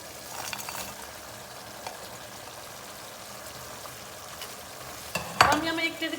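Tomato paste with okra frying in a pan, a faint steady sizzle with occasional light stirs, then a sharper clatter and louder sizzle near the end as something is added.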